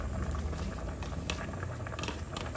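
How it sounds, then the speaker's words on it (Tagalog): Soup for a hangover with misua, sotanghon noodles, ground beef and Thai patis bubbles at a steady rolling boil in a pot, a dense close hiss and patter that runs without a break. "kumukulo na siya"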